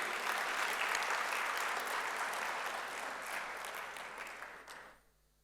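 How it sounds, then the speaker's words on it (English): An audience at a formal health and wealth event applauds a newly introduced managing committee, a dense, steady wash of clapping that fades out over about five seconds. "Can we have a big round of applause for our new managing committee?"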